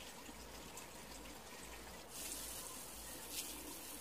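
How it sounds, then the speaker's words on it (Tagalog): Water runs over hair to rinse out shampoo-bar lather: a faint, steady hiss of flowing water with a slightly fuller gush partway through, with no talk. "At i-rinse na natin."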